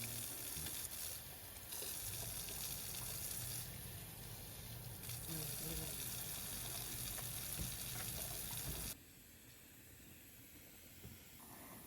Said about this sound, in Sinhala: ඔන්න දැන් තමයි බාත් ටබ් එක පුරවන්න හොඳම වෙලාව.